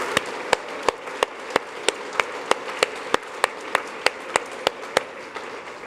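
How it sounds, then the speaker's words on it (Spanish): Inside a church, sharp regular claps ring out close and loud, roughly two every second in an even rhythm over a soft background of scattered applause from the congregation. "Le dan un aplauso."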